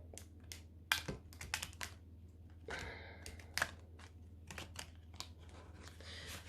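A deck of playing cards is shuffled close by, quick crisp riffles and flutters in several bursts with short pauses between them, alone and fairly quiet.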